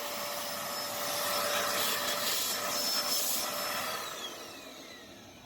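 A repaired electric upright vacuum cleaner runs steadily and loudly with a broad whooshing motor roar and a high whine, then winds down slightly toward the end, with no voices.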